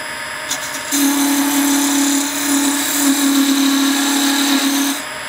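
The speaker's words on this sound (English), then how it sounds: "Turn off the lathe" Wood lathe spinning while turning a wooden dibber, a loud steady motor whine that starts abruptly, holds for about four seconds with slight wavering, then cuts off, close to the listener.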